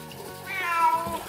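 A domestic cat meows loudly and insistently while being washed in a bath, its drawn-out, rising cry swelling in the second half of the moment, with faint water sounds beneath.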